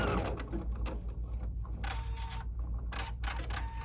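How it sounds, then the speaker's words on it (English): A Viking Ruby 90 embroidery machine's thread cutter snips with short mechanical clicks and whirs, close and fairly loud over a steady motor hum. "We hear the cutter."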